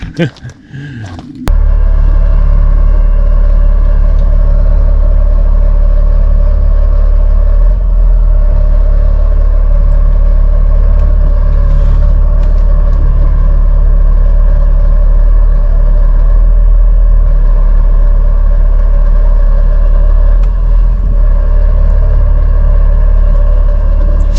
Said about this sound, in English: I'll get it backwards, get this dump truck